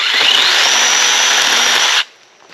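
A cordless 21V pole saw cuts tree limbs with a loud, steady, high-pitched whine that runs close and continuous for about two seconds and then stops abruptly.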